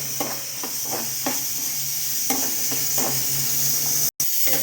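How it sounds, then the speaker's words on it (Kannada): Ingredients for radish sambar fry in a pan until brown, giving a steady soft sizzle with occasional stirring scrapes and clinks, close up with no talking. "ಸ್ವಲ್ಪ ಕಂದು ಬಣ್ಣ ಬರೋವರೆಗೂ ಫ್ರೈ ಮಾಡ್ತಾನೆ ಇರಬೇಕು"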